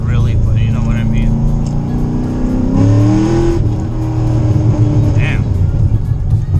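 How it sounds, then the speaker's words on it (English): Chevrolet C6 Corvette Grand Sport with an LS3 V8 heard from inside the car during a hard second-gear pull on a winter road, the engine note climbing steadily as it revs; a voice speaks over the engine. "We're about to do a quick little second gear pull."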